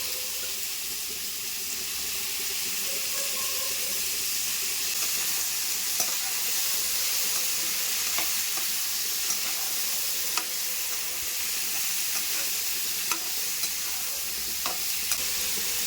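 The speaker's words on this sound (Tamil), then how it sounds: "நீட்டாக கட் பண்ண கத்திரிக்காய் சேர்த்துக்கிறேன்." Long-cut eggplant slices sizzle steadily in a hot pan while a utensil stirs and scrapes them, with light clinks and taps rising over the constant frying hiss.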